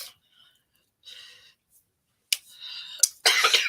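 A woman's short bursts of coughing and throat clearing break through near-silence, growing harsher toward the end as a few rough coughs come close together.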